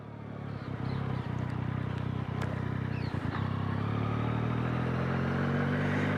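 A 2024 Yamaha MT-09 engine pulling at low speed in first gear, a steady mid-pitched hum whose tone rises gradually, with occasional clatter of the bike underneath.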